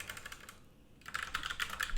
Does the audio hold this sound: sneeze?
no